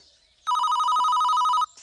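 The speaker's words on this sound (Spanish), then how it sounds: "¡Teléfono!" A telephone rings once with a loud electronic warbling trill lasting about a second, starting and stopping abruptly against near silence.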